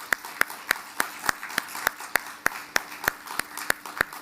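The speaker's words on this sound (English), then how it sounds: "I think that deserves a round of applause." Steady, evenly spaced claps ring out at an inauguration ceremony honoring surgical innovation, crisp and moderately close over a soft wash of wider applause, with no talking.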